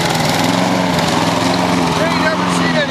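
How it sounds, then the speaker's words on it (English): A petrol lawn mower cuts grass up close, its engine holding a loud, steady drone with no break for the whole stretch. "mowing this lawn"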